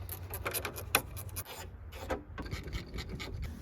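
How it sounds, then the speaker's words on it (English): An 11/32 wrench works the nuts holding a 4x6 speaker into the dash of a Jeep Wrangler YJ, giving quick close rasping ratchet-like clicks and rubbing scrapes in short bursts. "take a 11/32 wrench, pull off the 4 nuts that hold this speaker into the dash"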